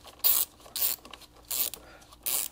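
A ratchet wrench tightens a battery terminal on a 2012 MINI, giving four short, loud bursts of rapid clicking separated by brief pauses, close up with no talking.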